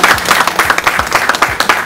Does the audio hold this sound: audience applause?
yes